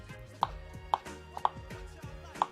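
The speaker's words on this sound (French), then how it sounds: "maintenant, je vais couper des petits morceaux de beurre" A knife chops small pieces of butter on a board for a mousseline sauce, giving five crisp, evenly spaced taps about half a second apart, close and clear with no talking.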